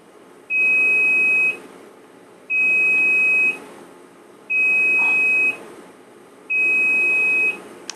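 A Sakura DRS 601 automatic slide stainer in a lab gives four evenly spaced, steady electronic beeps, each lasting about a second with equal gaps between them, clear and loud above a low background hum.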